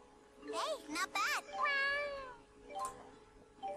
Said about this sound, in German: Deine Katze ist zurückgekehrt